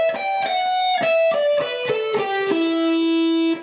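Overdriven electric guitar plays a descending minor pentatonic lick, a quick run of clear picked notes stepping downward, each sharply attacked, ending on a long sustained note, loud and alone without speech.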